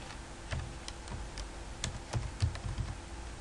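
Computer keyboard being typed on while writing C++ code, a steady patter of light clicking keystrokes at close range, with no talking.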